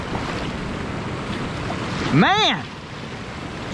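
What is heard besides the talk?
river waterfall rapids rushing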